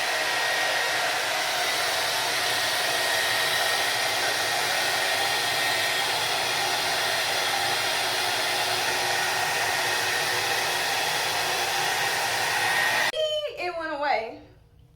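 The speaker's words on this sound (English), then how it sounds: "So I'm just gonna run a blow dry over it." A handheld hair dryer blows steadily and loudly while drying hair treated with castor-oil loc gel, a continuous close airflow roar for about thirteen seconds before it cuts off abruptly.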